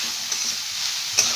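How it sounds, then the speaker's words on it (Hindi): Vegetables and spring onions sizzle steadily while being stir-fried over full flame for veg fried rice, a close, continuous hiss with a couple of brief scraping stirs and no talking. "1 मिनट हमने इसे अच्छे से हिलाते हुए सेक लिया है।"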